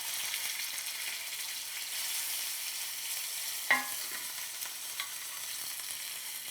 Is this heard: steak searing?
yes